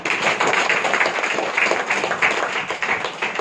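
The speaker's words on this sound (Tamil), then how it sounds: "கைத்தட்டு" An audience at a Brahma Kumaris spiritual talk claps, a dense, steady patter of many hands that runs loud and continuous throughout.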